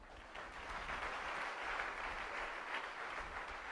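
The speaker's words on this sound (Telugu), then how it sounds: "చప్పట్లు కొట్టండి." Church congregation applauding during a sermon, a steady wash of clapping from many hands that holds evenly for a few seconds with no voices on top.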